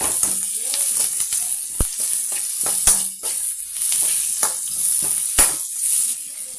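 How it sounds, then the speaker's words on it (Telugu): Chicken biryani ingredients fry in a pan after salt is added, giving a steady bright sizzle with scattered clicks and scrapes of stirring throughout. "ఇంకా వేగాలి."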